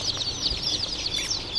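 Local chicks at a poultry farm chirp in a dense, continuous high-pitched chorus of overlapping peeps, close and fairly loud.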